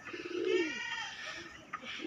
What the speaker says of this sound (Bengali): দেখতে পাচ্ছ কবুতর যে খাবার খাচ্ছে, সেটা দৃশ্য তোমাদের সামনে তুলে ধরছি